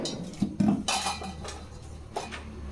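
A spoon scrapes and clinks against a metal cooking pot while boiling food is stirred, with several close, irregular knocks and scrapes at moderate volume.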